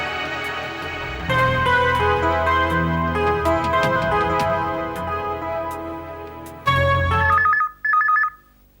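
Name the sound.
telephone ringing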